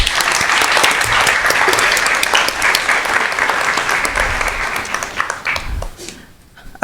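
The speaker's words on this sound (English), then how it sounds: "Let's give him another round of applause." Sustained applause fills a school district governing board meeting room, loud and dense clapping from the audience that holds for several seconds before tapering off.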